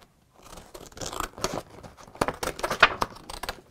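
Scissors cutting out a printed paper piece, a quick run of close crisp snips and paper rustles in an irregular rhythm.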